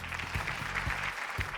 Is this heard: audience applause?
yes